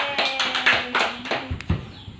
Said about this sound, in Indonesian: beri tepuk tangan kepada kelompok B